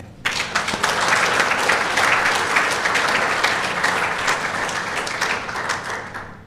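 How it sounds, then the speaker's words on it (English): Sustained applause from an audience at a university athletics hall of fame ceremony, steady and full for several seconds, close and loud with no talk over it. "I think that deserves an applause."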